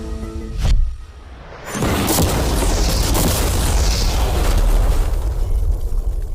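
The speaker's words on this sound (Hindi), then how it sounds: "चलो उड़ाते हैं एक नॉर्मल कार को" A sharp close-up blast as an ordinary car with mannequins inside explodes, followed by a long, loud roaring rumble of the fireball and debris.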